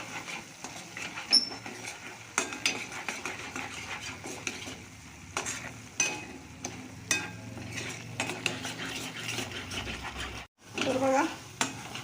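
Spices and green chillies being mixed into a Maharashtrian village-style chickpea curry in a pan, with repeated clinks and scrapes of a spoon against the metal over a soft background sizzle, loud and close.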